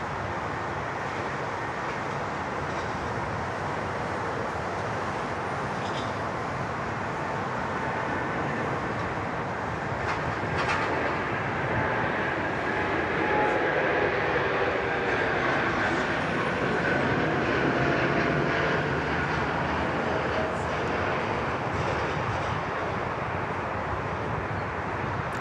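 A United Airbus A380 airliner takes off at Sydney Airport on a long takeoff roll, a broad, distant-sounding steady jet rumble that swells gradually and holds throughout, with no talk.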